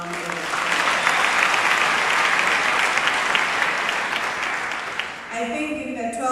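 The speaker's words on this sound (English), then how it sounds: "Can we give her a round of applause?" An audience at a university's official opening ceremony for the 2024 academic year bursts into a long, loud, steady round of applause that fades near the end, when voices take over.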